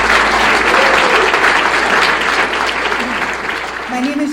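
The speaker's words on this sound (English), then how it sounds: "let's give a round of applause" Loud, sustained applause from a crowd honoring Navy SEALs at a golf classic event, dense continuous clapping that carries evenly through the clip, with faint voices mixed in near the end.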